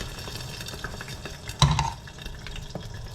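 Thai fried eggs crisping in hot oil in a pan, giving a steady close sizzle and crackle with a brief louder spatter burst midway, no talking.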